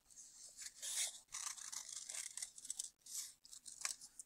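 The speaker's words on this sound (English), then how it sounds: "Now I'm going to take my scissors. Just going to cut on my line." Scissors snip through paper along a drawn line while making a hippo mask, a run of close, crisp cutting strokes with brief pauses between them and no talking.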